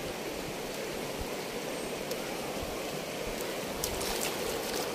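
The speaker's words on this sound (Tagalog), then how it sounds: "May ilog ah." A river stream flows steadily in a broad, even wash of water noise with faint splashes, continuous and fairly close throughout.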